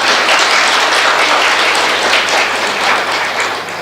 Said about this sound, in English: So double clap.